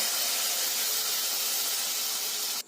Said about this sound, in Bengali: এইভাবে সবগুলো মালপোয়াকে একে একে ভেজে নিতে হবে